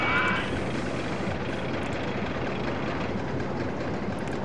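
A roller coaster running in the video game OpenRCT2, a continuous loud rumbling roar of the train on its track, steady and unbroken for the whole stretch.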